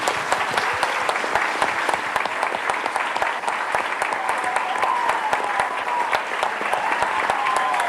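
Audience at a sports club's parents-and-athletes school event breaks into steady, dense applause that holds at an even level throughout, with a faint voice underneath.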